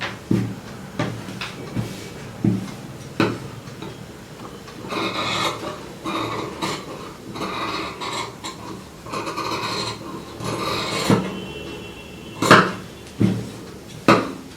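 Scissors cut through blouse fabric with a string of short, crisp snips and rasping slides of the blades, some louder than others, at close range with no talk.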